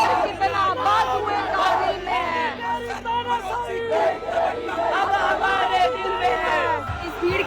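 A dense protest crowd in Delhi fills the air with overlapping chatter and raised shouting voices, a constant loud hubbub with no pauses and individual cries rising above the mass.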